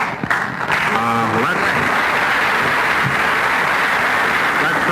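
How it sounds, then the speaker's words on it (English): Audience applause fills the room with a dense, steady clatter of clapping. A voice speaks briefly at the start, then the applause carries on loud and unbroken to the end. "That certainly deserves applause"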